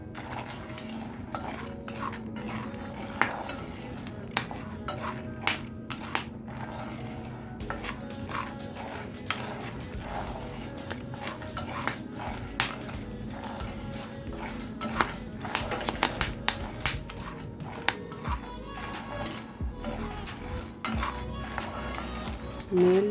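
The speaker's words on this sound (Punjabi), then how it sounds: "ਬਸ ਇਹਨਾਂ ਨੂੰ ਹਿਲਾਈ ਜਾਣਾ ਆਪਾਂ ਦਾਣਿਆਂ ਨੂੰ ਕੜਛੀ ਨਾਲ ਫੇਰੀ ਜਾਣੀ ਹੈ" A ladle scrapes and stirs corn kernels roasting in a home pan: steady scraping and clinking of metal on pan throughout, with scattered sharper knocks and a faint background hum.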